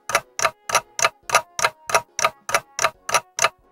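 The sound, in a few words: clock ticking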